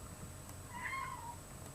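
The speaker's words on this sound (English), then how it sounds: "Yes, that's my kitty cat in the background meowing a lot." A house cat meows in the background, a single faint, drawn-out call rising and falling in the middle of a quiet, steady room tone, with no talk over it.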